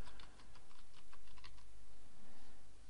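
Rapid computer keyboard typing as a folder name is entered, a quick run of light key clicks lasting a few seconds over a faint steady background hiss.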